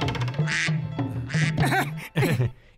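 A cartoon duck quacks in a quick series of nasal, raspy calls, four or five close and loud bursts over a low steady hum.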